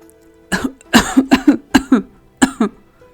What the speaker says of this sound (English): an earth-shaking coughing fit